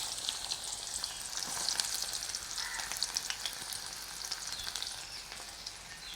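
Onions fry in coconut oil with a continuous soft, bright sizzle and occasional stirring scrapes, fairly quiet and steady with no voices.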